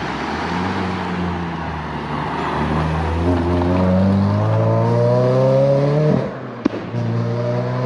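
A Renaultsport Clio 197 pulls away under load, its engine note climbing steadily through the revs close up, then dropping sharply at a gear change before building again.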